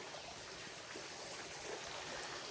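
Water trickling steadily through a raised terrace water feature at a Thai temple, a soft continuous burble and splash with no talk over it.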